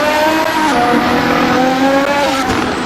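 Red Bull 2025 Formula 1 car lapping Silverstone in a racing video game, a loud, sustained high-revving engine whine with small pitch shifts and brief downshift blips, with no voices.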